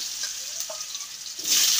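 Medium potato pieces fry in oil left over from frying pakoras, giving a soft, close sizzle with faint stirring that swells louder near the end.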